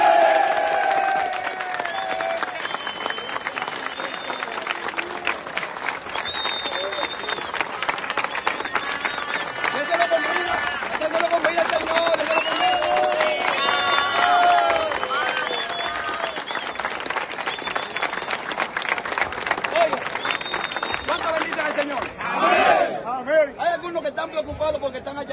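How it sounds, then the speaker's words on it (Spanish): A large crowd at a worship gathering in a correctional centre applauds loudly and continuously, with cheering voices over the clapping and a speaker talking above it before the applause fades near the end. "Fuerte ese aplauso al Señor conmigo."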